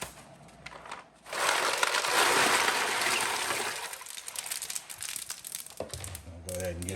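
Ice is poured into an ice bath for chilling beer wort, a loud crunching, rattling rush of cubes lasting several seconds before tapering into scattered clinks and shifting, with a brief voice near the end.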